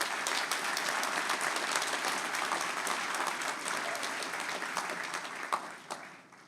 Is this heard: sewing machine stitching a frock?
no